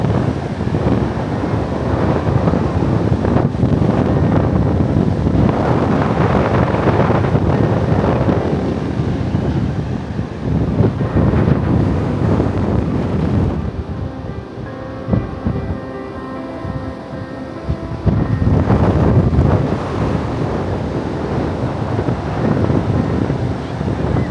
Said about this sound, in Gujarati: અને આ છે દરિયો નજીક એકદમ નજીક છે